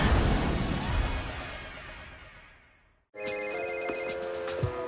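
A telephone rings on a comedy TV channel's break: first a loud, crashing noise that fades away, then a brief silence, then a steady electronic ring with a few clicks, at moderate level.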